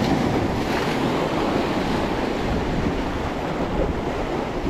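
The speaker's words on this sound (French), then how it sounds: "Là, je suis face au vent" Strong wind buffets the microphone while waves wash steadily onto a sandy shore during sea bass fishing, a loud, continuous rushing roar with no voices.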